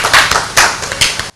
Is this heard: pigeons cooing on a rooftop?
no